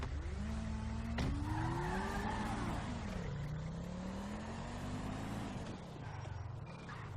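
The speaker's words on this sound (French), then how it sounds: "J'arrive avec la voiture." Police car tires skidding and squealing in long wavering screeches over a revving engine, loud and continuous, with brief harsh bursts.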